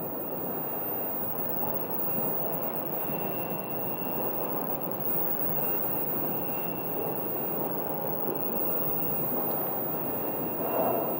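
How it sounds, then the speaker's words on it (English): An American Airlines jet arriving from Cancun lands at Phoenix Sky Harbor Airport, a steady broadband roar of engine and rushing air heard from a distance at a parking garage, constant throughout with no talk. "this is the American landing from Cancun, Mexico"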